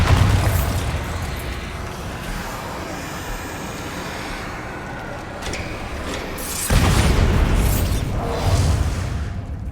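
In Hogwarts Legacy, the Bombarda spell sets off deep booming blasts and rumbling bursts amid loud game combat noise, with two heavier explosive surges in the latter part.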